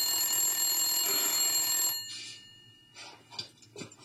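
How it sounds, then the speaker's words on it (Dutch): A telephone rings steadily for about two seconds, loud and close, in an amateur youth-camp film, then stops and leaves faint room noises and small movements. "De telefoon gaat."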